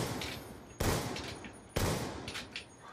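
Two sharp, loud rifle cracks from an SVU sniper rifle in Black Ops 2 fire about a second apart, each fading into a short ringing tail over quiet game ambience.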